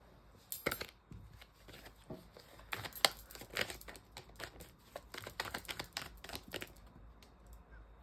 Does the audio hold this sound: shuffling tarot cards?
yes